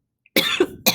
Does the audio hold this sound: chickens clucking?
no